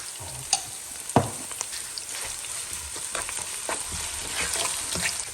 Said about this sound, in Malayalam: ഇതൊന്ന് സോട്ടാക്കി വരാൻ വേണ്ടി അടുത്തിടുമ്പോൾ ഇതിലേക്ക് കുറച്ച് ജിഞ്ചർ ഗാർലിക് പേസ്റ്റ് കൊടുക്കും